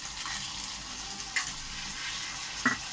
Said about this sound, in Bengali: একটুখানি নেড়ে চেড়ে ভালো করে ভাজবো